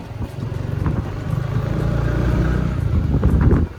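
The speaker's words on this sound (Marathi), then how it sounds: "चला, मी चाललो आहे बाईकवर." A motorcycle rides along a road, its engine a steady close drone with wind rush and slight swells in loudness over a few seconds, no talking.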